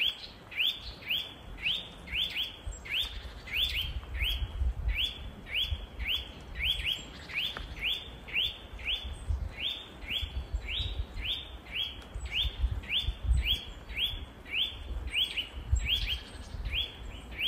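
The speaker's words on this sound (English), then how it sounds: "just so that you could hear the bird that I'm listening to in the forest" A bird sings in a winter forest, repeating a short bright chirp in a steady rhythm, about two per second, clear and fairly close over a quiet outdoor background.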